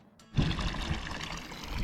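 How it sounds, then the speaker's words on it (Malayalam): Cold mountain water flows from a pipe in Munnar, making a steady rushing splash that starts abruptly and continues close and even. "ഇവിടെ മലയിൽ നിന്ന് വരുന്ന വെള്ളത്തിൻ്റെ അവിടെ ഒരു പൈപ്പ് പോലെ വെച്ചിട്ടുണ്ട്"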